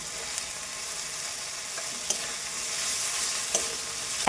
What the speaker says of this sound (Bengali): জিরে গুঁড়িটা আমি জলে একটু গুলে নিয়েছি এখন দেবো টমেটো কুচি